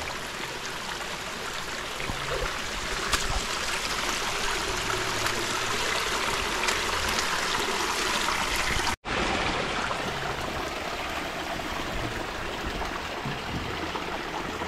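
A stream flows nearby with steady, loud rushing and trickling water that continues throughout, broken only by a brief cut near the middle.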